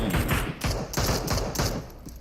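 Gunfire in PUBG Mobile comes as rapid bursts of sharp shots, roughly evenly spaced, fairly close and loud, with a rumbling low tail after each burst.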